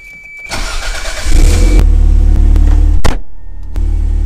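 A Toyota MR2 Turbo starts with a brief starter whir, catches into a loud idle, then revs up and settles back, heard close and alone.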